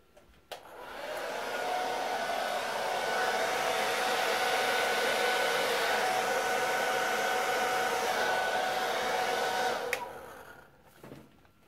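A hair dryer clicks on and blows with a steady, whining roar for about ten seconds, then switches off; close by, no talking.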